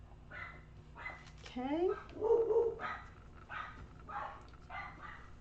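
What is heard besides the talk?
dogs barking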